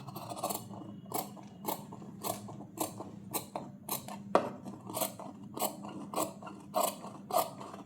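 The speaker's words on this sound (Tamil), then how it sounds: "இப்படியே மார்க் பண்ணி வச்சதை அப்படியே கட் பண்ணலாம்" Scissors cut blouse fabric along marked lines, with a steady series of sharp snips and metallic blade clicks repeating roughly every half second, close and clear with no talking.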